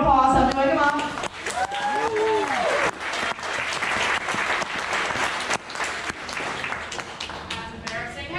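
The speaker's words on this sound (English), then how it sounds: "Give them a round of applause." A theme park show audience at Magic Kingdom's Country Bear Jamboree applauds in a steady wash of clapping, with a voice and musical tones heard over it near the start.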